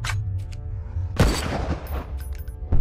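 Gunfire in the shooter game SNIPZ: a loud, sharp blast followed by a rattling burst of shots and a second hit near the end, over a low steady game hum.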